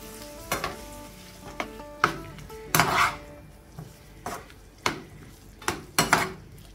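A spatula knocks and scrapes in bursts against a pan of frying onion, prawns and chopped tomato, sharp metallic clacks spaced about a second apart over a soft sizzle.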